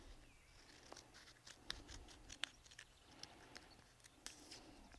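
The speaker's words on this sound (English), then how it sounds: "go ahead and cut one of these out. Just follow the line around the outside. Cut out that square." Small scissors snip around the outline of a square paper calibration scale for an archery sight, giving faint, close, irregular clicks and crisp cuts over a quiet room, with no talking.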